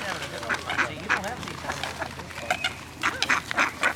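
Ducks being fed by hand, a cluster of close quacks and honks in bursts, with voices talking over the birds.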